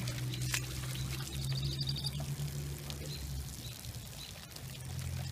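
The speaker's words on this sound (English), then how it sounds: "You just simply overflow the cup and they will spill out." Water pours steadily to overflow a lanternfly trap cup and flush out dead insects, a soft, continuous trickle over a low steady hum.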